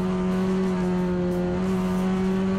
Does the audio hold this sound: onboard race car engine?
yes